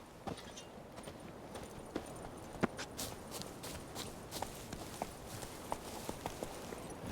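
Horse hooves walk in The Witcher 3, a steady clip-clop of light, sharp hoof strikes at a relaxed pace, moderately close over a soft outdoor background.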